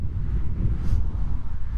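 Steady wind buffets the microphone on a Leipzig street, a continuous low rumble and roar with gentle gusts rising and falling throughout, loud and close, with no other sounds standing out.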